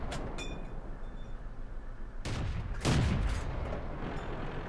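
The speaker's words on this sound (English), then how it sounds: "Take another blind shot and then maybe he's gone up there, have another blind shot there." Tank gun firing a blind shot in World of Tanks, one loud booming blast with a rumbling tail over steady engine noise, preceded by a sharper crack.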